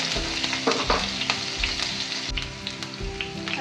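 Green garlic frying in oil in a pan, a loud close sizzle with crackling pops and the scrape of stirring, continuous and without voices.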